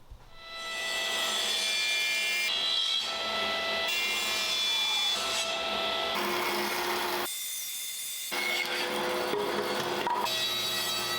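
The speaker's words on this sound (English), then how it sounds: "let's jump right in and start milling up some lumber" Lumber being milled for a wood sculpture, a loud continuous machine whine cutting through wood with steady pitch shifts and a brief pause near the end, no talking.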